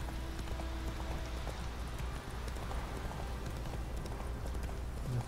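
A horse in the video game Witcher 3 gallops with rapid, continuous hoofbeats under a dense, steady wash of game ambience and sound effects, with no pauses.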